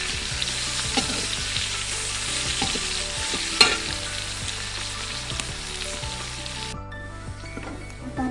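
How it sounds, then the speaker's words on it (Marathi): Garlic for chivda fries in hot oil, giving a steady close sizzle with repeated scraping stirs of a spoon in the pan, one sharp clink in the middle, and no voices. "आता आपलं लसूण तळते तेव्हापर्यंत त्याच्यात सगळं टाकून घेऊया मसाले."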